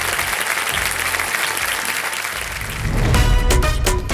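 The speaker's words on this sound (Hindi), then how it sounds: "जोरदार तालियों के साथ मैं चाहता हूं कि इनका स्वागत किया जाए।" A studio audience on the Kaun Banega Crorepati Season 14 game show set bursts into sustained, loud applause to welcome contestants, with the clapping swelling denser and stronger near the end and no talking.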